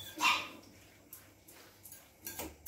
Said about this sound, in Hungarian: Ez mit ugat?